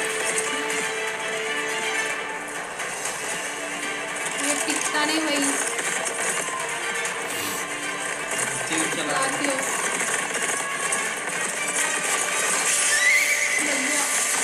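A horse whinnies and its hooves clip-clop in a dramatic battle scene from the Turkish historical series Kurulus Osman, mixed under a dense wash of music and crowd noise.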